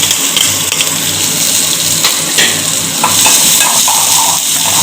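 Two finely chopped onions sautéing in hot oil for a red sauce, a loud continuous close sizzle with stirring scrapes throughout, no talking.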